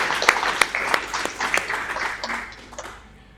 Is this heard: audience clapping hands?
yes